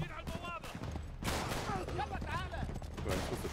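Sniper gunfire in the game Uncharted 3 cracks out in several bursts amid chaotic battle noise, with a voice talking over the shots.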